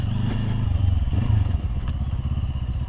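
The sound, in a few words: QJMotor SRT450RX motorcycle riding off-road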